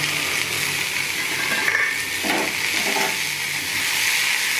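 Vegetables sizzle and fry in a pan for a fish-head and bitter gourd chorchori, a steady close hiss with brief stirring scrapes partway through.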